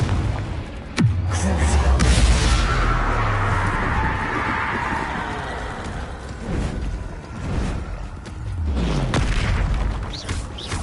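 Confringo spell blasts in Hogwarts Legacy, with deep booming explosions and rumbling whooshes, a strong boom near the start and another swelling blast near the end over continuous rumble.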